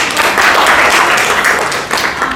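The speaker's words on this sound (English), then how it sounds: "So give yourself a round of applause." A room of participants at a library leadership workshop in India gives a dense, even round of applause. The clapping is loud and sustained through the whole stretch, with no gaps.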